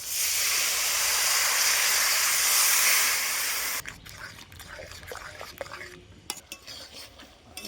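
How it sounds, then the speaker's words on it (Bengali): Ground coriander and cumin paste fries with added water in a pan, a loud, steady sizzling hiss that suddenly drops away to a spoon scraping and stirring the masala, close and without talk. "এবার দিয়ে দেবো জল দিয়ে আমি মশলাটা কষে নেব"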